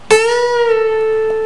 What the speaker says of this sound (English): we're going to release it and let it come back down without picking,